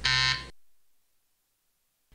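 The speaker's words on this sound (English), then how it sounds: "In smaller stores, a buzzer may go off as the door opens, advising everyone of the would-be robber's presence." A store door entry buzzer sounds once, a loud harsh electronic buzz lasting about half a second, then fades into near silence before a faint sound at the very end.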